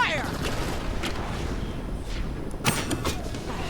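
Dense, sustained gunfire from the video game Borderlands, a steady wash of shots with a heavier burst late on, with faint voices mixed into the noise.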